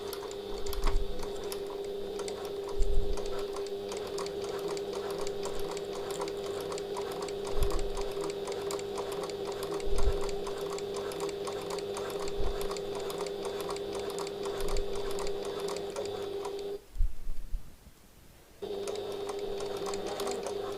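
A sewing machine stitches piping onto a tote bag, a continuous rapid whirring hum broken by soft thumps as the fabric and cord are adjusted, with a brief pause near the end before stitching resumes.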